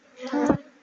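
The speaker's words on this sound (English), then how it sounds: "this is the hour of honey harvesting, and this is the African bee" African honey bees buzzing close by during a honey harvest, a short swelling drone that rises and fades within a second, with no talk over it.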